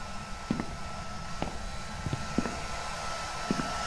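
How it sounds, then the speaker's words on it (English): A blow dryer runs with a steady, faint whirring hum in the ghost-hunting video game Phasmophobia, accompanied by scattered soft footsteps and thumps in the background. "Where the hell is this blow dryer?"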